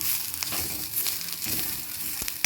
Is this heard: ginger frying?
yes